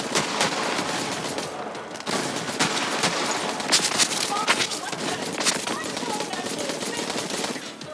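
Rapid automatic gunfire from a turret in Borderlands 3 rattles continuously at close range, dense bursts layered with other game effects, with a voice speaking over it.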